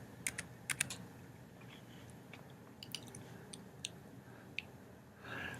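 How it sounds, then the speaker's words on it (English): Several sharp keyboard clicks tapped out in short bursts, entering a number on a computer keyboard in a quiet room, with brief pauses between keystrokes and no talking. "I'm going to type 22 in here and see if that's correct."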